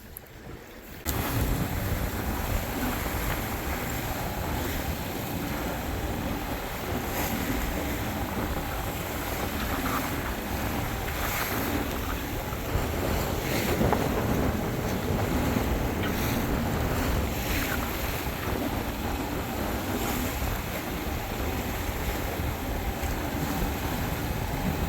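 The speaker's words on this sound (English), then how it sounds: "Punching through these waves." A Catalina 30 sailboat punches through waves, with a steady loud rush of water and wind buffeting the microphone throughout, no voices, after a brief quiet start.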